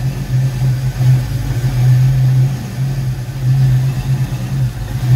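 A Ford Foxbody Mustang engine idles unevenly, a close low hum whose steady tone swells and dips in irregular surges over several seconds, alone without voices.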